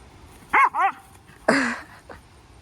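Two quick yelping barks followed by a longer, louder bark from a dog nearby, with quiet pauses between.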